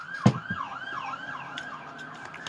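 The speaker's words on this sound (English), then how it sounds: "Ambulance." A wailing ambulance siren cycles up and down continuously at mid distance, with a low traffic hum beneath and a few short thumps near the start.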